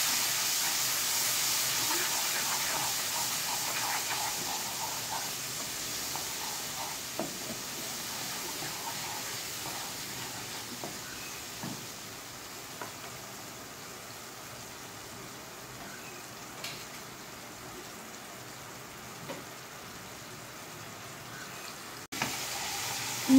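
Spice paste with salt and a splash of water sizzling in a pan for a Bengali fish curry, a steady soft hiss running throughout with occasional faint clinks of stirring.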